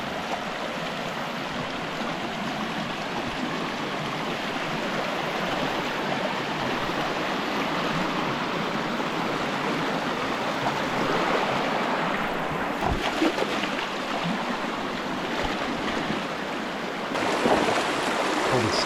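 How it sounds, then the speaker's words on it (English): A river rushes steadily as someone wades across it while searching for the ruins of an 1848 iron forge, a loud, broad, continuous roar of flowing water with a few brief knocks and splashes near the end. "I'm about to cross the river"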